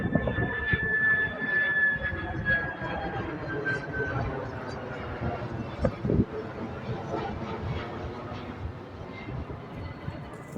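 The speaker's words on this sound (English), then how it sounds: "sorry for the plane going over top." A plane passes overhead near an airport, a steady broad engine roar that fills the whole stretch beneath a bright whine that slides slowly downward, with ongoing outdoor noise at a cold-weather fishing spot.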